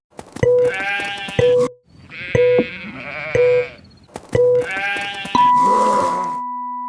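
Goats bleating loudly and close by in a series of drawn-out, wavering calls with brief gaps between them, with no other sounds alongside.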